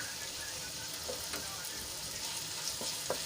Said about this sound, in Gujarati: બધા મસાલા સારી રીતે મિક્સ કરી લઈશું